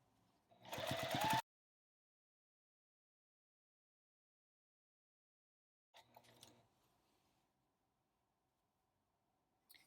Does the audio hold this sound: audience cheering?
no